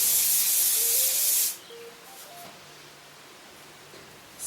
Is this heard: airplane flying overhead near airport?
no